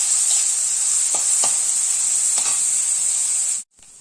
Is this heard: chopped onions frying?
yes